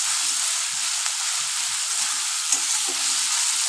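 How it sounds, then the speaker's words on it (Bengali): Onion, ginger and garlic frying in a pan, a steady close hiss and sizzle with faint stirring scrapes and no talking. "পেঁয়াজটা অনেকটা কমে এসছে, সাথে আদা রসুনটাও কষতে শুরু করছে।"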